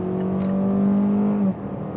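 A facelifted Mazda CX-5 accelerates hard in sport mode, its engine a loud, steady droning pull that climbs briefly and then drops off abruptly as the throttle eases.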